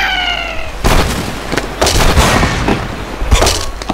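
Bomb bird blasts in the Angry Birds video game on a beach level, several loud booming explosions in quick succession, each followed by crumbling, clattering debris.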